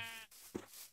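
A sheep from the Minecraft video game bleats once, short and wavering, under game background sounds.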